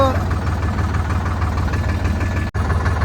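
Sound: tractor rotavator engine running

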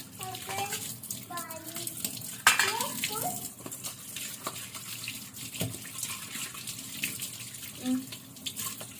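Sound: water running from tap while washing

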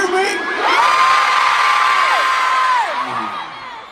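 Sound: stadium crowd screaming and cheering at concert

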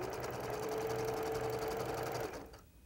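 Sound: sewing machine stitching a quilt

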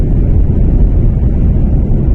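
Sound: strong wind

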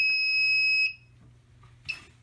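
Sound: Fireman 24 smoke detector alarm sounding during system test

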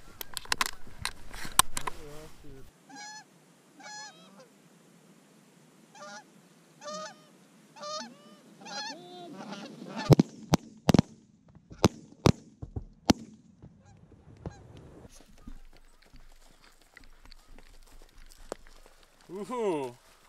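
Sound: Canada geese honking

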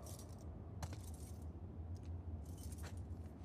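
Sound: keys jangling while trying a lock, The Last of Us Part II video game

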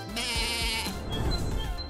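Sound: cartoon goat bleating

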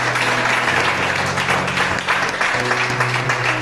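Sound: congregation applauding and acclaiming the Lord

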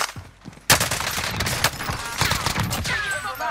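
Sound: gunfire in the video game Call of Duty Warzone

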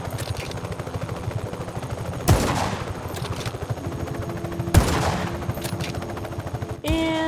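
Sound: gunfire in Just Cause 3 video game

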